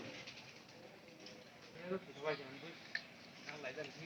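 Pigeons coo in a loft above, soft low cooing under a voice talking close by, faint and intermittent.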